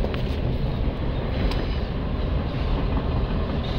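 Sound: freight train passing nearby

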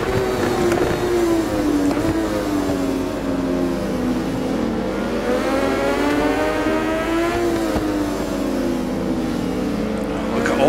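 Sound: motorcycle engines racing in video game RIDE 4

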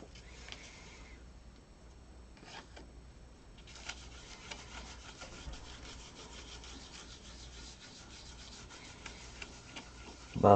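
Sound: buffing gold gilding flakes with a finger

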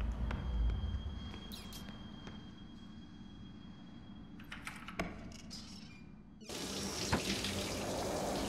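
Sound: running water from a shower in the bathroom

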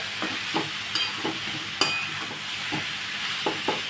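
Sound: stirring kantola vegetable cooking in a pan

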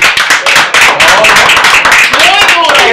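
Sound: applause, audience clapping

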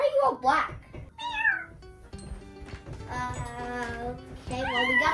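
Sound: child imitating a cat meowing

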